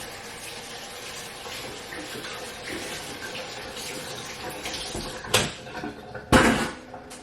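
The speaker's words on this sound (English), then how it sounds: "But I need to wash my hands." A kitchen tap runs steadily while hands are washed at the sink, a constant close rush of water, then two sharp knocks near the end, with no talking.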